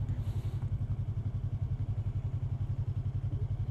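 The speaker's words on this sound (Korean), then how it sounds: "엔진을 이렇게 레브 해줘야 되는데" Engine of a Yamaha R3 sport motorcycle thrumming in a fast, even pulse while ridden, loud and close, with a short higher rush at the start and no talk.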